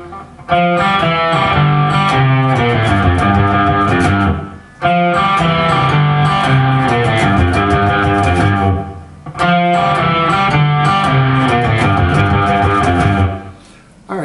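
Electric guitar playing a descending walk-down from a song, repeated three times with short pauses between, loud and close with a slightly overdriven tone and no talk.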